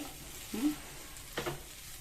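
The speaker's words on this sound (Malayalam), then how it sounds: "ഇതൊന്ന് ഇതിൽ കടന്നിട്ട് ഏകദേശം ഒന്ന് ഫ്രൈ ആവട്ടെ" Beef fries quietly in a pan while a utensil stirs it, giving two distinct scraping strokes over a soft, steady sizzle.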